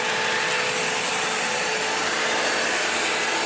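A Bissell CleanView Swivel upright vacuum cleaner running steadily, a loud continuous whine and roar with no breaks or voices.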